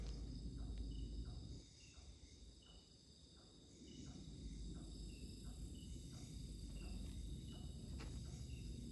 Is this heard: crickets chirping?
yes